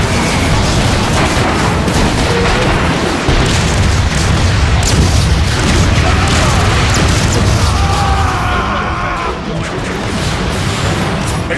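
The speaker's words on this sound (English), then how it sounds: "They're shelling the plaza! It's coming from that warp cannon." Warp cannon shelling pounds a plaza in the Transformers Fall of Cybertron video game, with loud, continuous booming explosions and crashing debris rolling one into the next, dense and close throughout.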